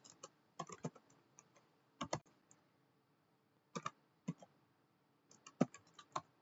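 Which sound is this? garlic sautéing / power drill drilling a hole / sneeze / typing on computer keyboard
typing on computer keyboard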